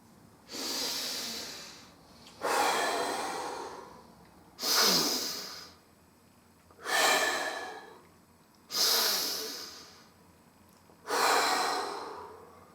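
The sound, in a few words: demonstration of a stress-relieving breathing technique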